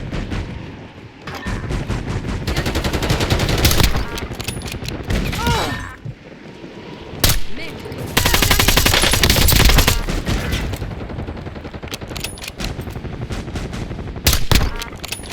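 Video game gunfire rattles in dense automatic bursts and single shots, loud and close, with brief pauses between volleys and occasional voice lines over the shooting.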